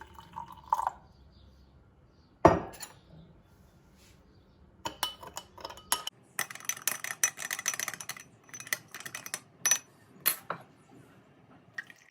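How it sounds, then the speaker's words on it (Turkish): Water is added to coffee to dissolve it for a cold coffee drink: one short splash, a pause, then a long run of light clinks and liquid swishes from stirring, close by and quiet. "Biraz şöyle su ekleyip kahveleri çözündürelim."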